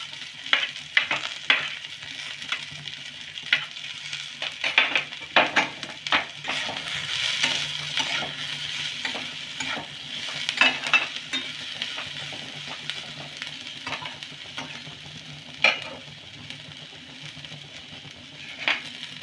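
Carrot and capsicum being stir-fried in a pan for spring roll filling, with a steady close sizzle and repeated scraping and stirring clatters from the utensil, and no talking.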